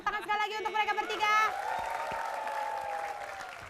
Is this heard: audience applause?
yes